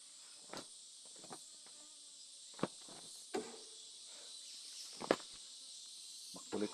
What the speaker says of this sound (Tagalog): Makulit po yung bubuyog na maliit, maingay.